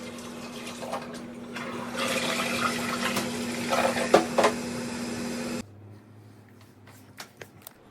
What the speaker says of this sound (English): this was the dirty water after mopping, so I'm just dumping it in the toilet.